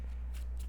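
Marvel Champions cards are shuffled into an encounter deck with two quick, soft riffles, close and faint over a low background hum.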